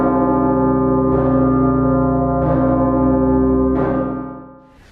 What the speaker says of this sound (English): It only rings on declared national and major holidays with its low, long chime, a striking and famous sound in the gorgeous city of Bucharest